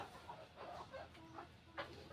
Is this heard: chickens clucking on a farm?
yes